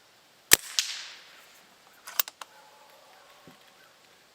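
A Pinty Nightfall .22 air rifle fires a pellet with one sharp, close crack, followed by softer clicks and clacks of the action being worked, then quiet.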